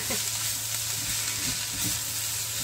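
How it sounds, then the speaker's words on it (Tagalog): Cabbage tipped into sautéed onions in a small wok gives a steady close sizzle with faint stirring scrapes, no talking. "Pag ganyan na ang kulay ng sibuyas, lagyan na natin ang ating cabbage."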